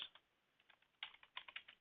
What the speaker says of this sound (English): I'm typing my notes as we go through here.